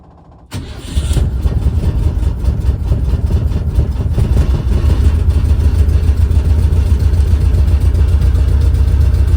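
The engine of a 1972 Volkswagen Type 3 Squareback catches after a brief quiet start, then runs loud and steady on a driveway with a deep, throbbing rumble close by.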